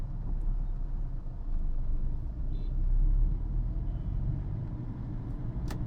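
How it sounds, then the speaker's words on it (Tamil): A car slows in Chennai city traffic as the driver shifts to second gear, a low steady engine and road rumble from inside the cabin with a slight swell midway, no talking. "இப்போது வெஹிக்கிள் ஸ்லோவாகிறதுனால ஃபுல் கிளச்சு ப்ரெஸ் பண்ணி 2nd கியர் வந்துடுறேன்."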